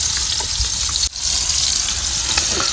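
Chicken frying in oil on clay roof tiles outdoors, giving a dense, continuous close sizzle with a brief dip partway through.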